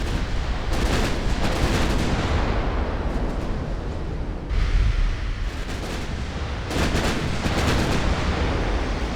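Naval artillery shellfire from a warship battle in Ultimate Admiral: Dreadnoughts, a loud, continuous barrage of booming gun blasts and rumbling impacts across the whole stretch, with a brief lull midway before the volleys pick up again.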